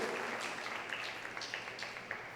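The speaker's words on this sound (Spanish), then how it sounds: "¿Cuánto le dan un aplauso al Señor?" A church congregation applauds, a steady wash of clapping that sounds somewhat distant and holds evenly for about two seconds.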